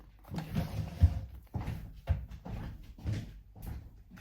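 A door is unlocked and opened, giving a few clunks and knocks of the latch and handle against a dull, low room rumble, with no talk.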